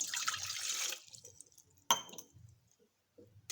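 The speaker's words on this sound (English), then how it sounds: "Add needed quantity of water." Water splashes and pours into a vessel set on a stove, a brief burst of close pouring that stops, followed by a sharp metallic clink and quiet handling noises.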